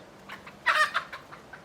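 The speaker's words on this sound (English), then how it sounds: "That's one of the new laying hens." A laying hen clucks in a garden, giving a short run of soft clucks that swell into one louder, close squawk in the middle before trailing off, heard alone.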